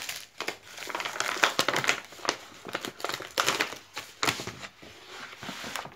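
Paper and plastic packaging crinkle and tear as a parcel holding a comic book is opened, in close, irregular bursts of crumpling and rustling with short pauses.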